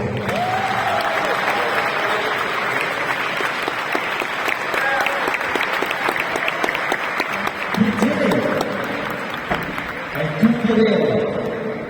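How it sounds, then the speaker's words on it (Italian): A crowd applauds at Lucca Comics & Games, at Jim Lee's Walk of Fame handprint moment: sustained dense clapping throughout, with voices and scattered cheers mixed in. "Applausi."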